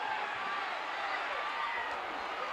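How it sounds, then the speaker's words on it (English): Broadband roar of a live wrestling arena crowd at a 1979 Ken Patera versus Jose Lothario match, a steady, dense wash of voices and cheering that holds evenly throughout, loud and sustained without pauses. "Listen to the noise from that crowd here"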